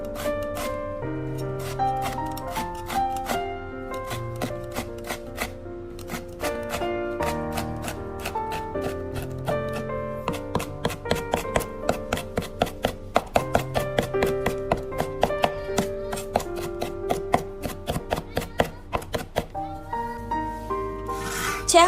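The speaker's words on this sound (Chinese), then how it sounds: "将小米辣切成圈。" A knife slices bird's eye chilies into rings on a cutting board, giving a long run of rapid, crisp taps that come faster and sharper toward the end, while soft background music plays underneath.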